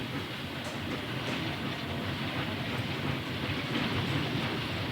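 Night train departing a station, a continuous rumbling roll with rhythmic rail clatter, steady and moderately close throughout.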